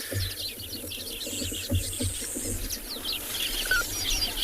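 Many birds chirp and call together at their nests in a busy, continuous chorus on a South African safari, some near and some farther off, with soft low coos underneath.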